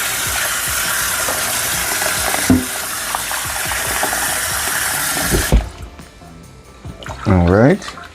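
Running tap water splashes over lentils being rinsed in a strainer, a loud steady gush with drips that cuts off near the end, followed by a brief spoken voice.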